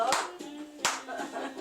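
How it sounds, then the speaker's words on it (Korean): Hands clap in a loose, uneven rhythm, a handful of sharp close claps spread over under two seconds with faint background music or voices between them. "열정적으로 박수치는 모습 정말 즐거워 보이는데요"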